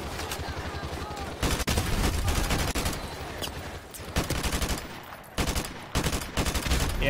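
Dense bursts of automatic gunfire from enemies firing out of a window in Call of Duty: Modern Warfare Remastered, loud and continuous with brief gaps, with a voice talking over the shooting.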